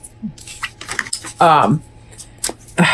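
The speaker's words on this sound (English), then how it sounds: "So I am shuffling right now our Animal Wise Tarot" An Animal Wise Tarot deck being shuffled by hand gives papery flicks, taps and light clattering in short bursts, mixed with close talking.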